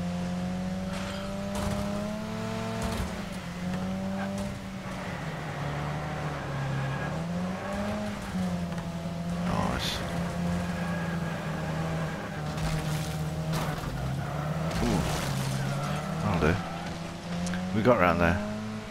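Robin Reliant three-wheeler engine droning and revving in the racing game Wreckfest on the Death Loop track, a steady buzzy engine note rising and dipping with gear changes throughout, with someone talking excitedly over it.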